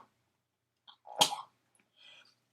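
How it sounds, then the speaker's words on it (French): One sharp, close sneeze with a quick inhale before it and a soft breath afterward, otherwise quiet. "Je vais éternuer."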